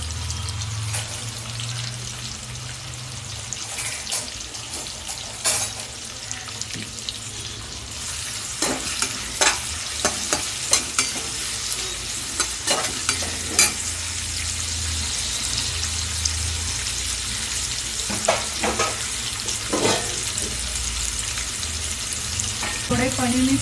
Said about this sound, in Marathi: थोडे पनीर मी फ्राय करून घेते.